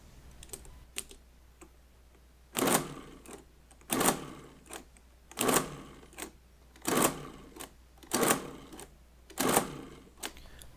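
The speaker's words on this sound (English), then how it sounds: "the machine will only add or subtract once per button push" Friden STW10 mechanical calculator adding with its division stop engaged: six loud, evenly spaced whirring mechanical clatters, one per button push, each lasting about half a second, following a few lighter clicks at the start, with quiet pauses between.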